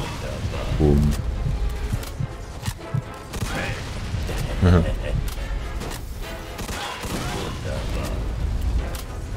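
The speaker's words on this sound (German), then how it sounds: "Wo kamen denn die Schüsse gerade her?" Gunfire in the video game Mafia II: scattered sharp shots and thuds at irregular intervals over several seconds, mixed with mechanical clatter and game sounds, moderately loud.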